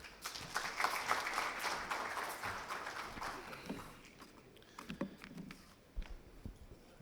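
Convention audience applause swells loudly at first, then thins into scattered individual claps and fades toward the end.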